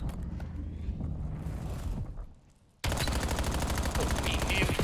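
Pistol shots ring out in an esports match of a competitive shooter game, Cursed Vendetta versus Valkerya, loud and dense. Game sounds run throughout, with a brief dip before a sudden loud return, all under commentators' voices.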